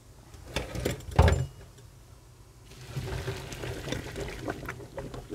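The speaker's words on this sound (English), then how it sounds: "drain my potatoes over here." Boiled potatoes being drained as water pours off from a pot in a kitchen, with a brief loud splash and clatter followed by a steady, moderate rush of running water.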